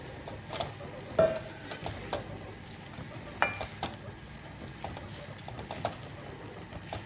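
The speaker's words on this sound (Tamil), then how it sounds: "சாதத்தை இதோட கலந்துடலாம்." Cooked rice is mixed into a pan for mango rice, giving faint, irregular scraping and stirring taps over a low, quiet sizzle, with no talking.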